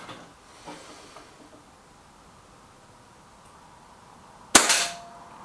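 A Trimex Arms Elf S air rifle fires a single close, loud shot: a sharp crack with a short hissing tail, after several seconds of quiet room noise.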